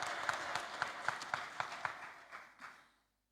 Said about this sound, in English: I think we must give ourselves a big applause